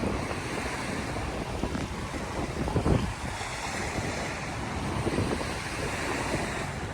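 Waves wash in steadily at high tide on Manila Bay, a continuous broadband roar of surf mixed with wind buffeting the microphone, with no one speaking.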